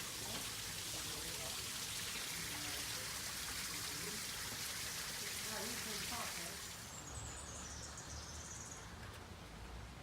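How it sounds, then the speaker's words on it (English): Small garden waterfall giving a steady broadband splash and trickle, close and continuous, with a softer, quieter stretch near the end and a faint voice underneath. "Little waterfall here."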